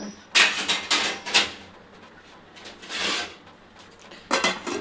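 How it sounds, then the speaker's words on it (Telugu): A metal lid clanks down onto a cooking pot of Telangana-style fish curry set to simmer. Several sharp, close metallic knocks and rattles come in quick bursts, with a pause before a final clatter. "ఇట్లా మూత పెట్టుకోవాలి"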